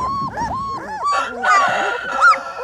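Central Asian Shepherd puppies whimper, yip and whine in a run of high, wavering cries, close and fairly loud, with adult voices talking over them.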